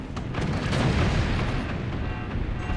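Weapons firing at a fort during a multiplayer night-map match of the video game Forts, with dense, continuous booming and rumbling impacts that stay loud throughout.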